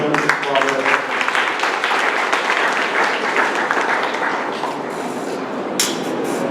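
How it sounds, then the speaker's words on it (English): Dense, sustained applause from an audience at a college engineering department inauguration, many hands clapping steadily and loudly throughout, with a few sharper claps near the end. "with a great round of applause, let us welcome them"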